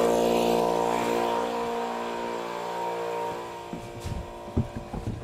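A compressor-type tyre inflator on a classic Mini runs steadily with a dense mechanical drone, pumping a slowly punctured flat tyre toward about 30 psi, then cuts out into a few short clunks and knocks near the end.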